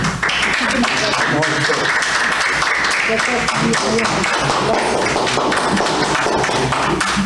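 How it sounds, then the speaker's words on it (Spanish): Loud, sustained applause from an audience at a recognition ceremony, dense clapping filling the whole stretch with voices mixed in. "le entregamos este reconocimiento con un fuerte aplauso"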